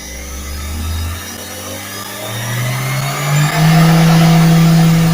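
Treadmill motor driving a converted hand-cranked honey spinner, a steady electric whine that climbs in pitch as the speed is raised, heard alone and close.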